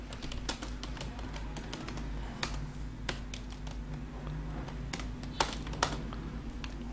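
Typing on a computer keyboard while drawing shapes in InPage, Urdu desktop publishing software: scattered sharp key clicks at an irregular rhythm over a steady low hum, close and fairly quiet, with no talking.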